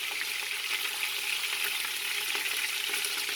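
Pork neck bones fry in a pan with a dense, steady sizzle and crackle, close and fairly loud, with a few small pops and no voices.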